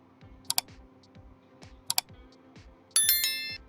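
Computer keyboard keys click in quick pairs, like double presses of Enter while drafting in AutoCAD, followed by a bright ringing chime from the software, all close and clear with no talking.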